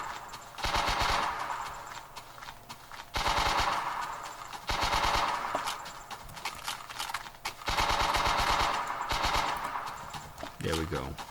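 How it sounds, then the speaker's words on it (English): Enemy automatic gunfire in a third person shooter game, coming in four loud sustained bursts, each a couple of seconds long, separated by short pauses and ending with a brief clatter. "Let's see if it still fires at us and reloads."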